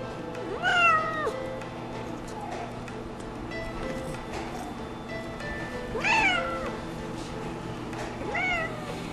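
A cat meows at an animal emergency hospital while being sedated for a blood draw: a loud cry near the start, a second one midway and a softer third near the end, over steady room hum.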